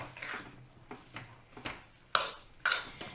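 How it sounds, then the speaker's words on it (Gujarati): Spoon scraping and clinking against a pot as spices are mixed into drained boiled wheat for spicy ghughri, several sharp metallic knocks, the last two louder, over quiet kitchen background. "આવી રીતના મસાલા મિક્સ કરી આપણે નિતારીને બાફેલા ઘઉં ઉમેરી દઈશું અને સરસ મિક્સ કરી લેવું."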